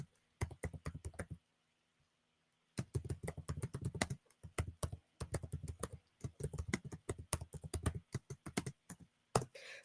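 Close, quiet typing on a computer keyboard in quick bursts of key taps, separated by short pauses and one longer gap near the start.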